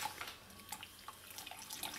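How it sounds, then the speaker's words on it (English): Water is added to split pea powder to make a thin batter, giving a soft, continuous trickle and splash with faint clinks, close but quiet, without speech. "I'm going to add enough water to make"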